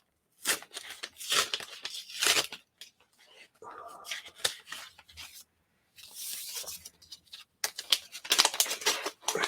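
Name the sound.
unwrapping new Kindle Scribe packaging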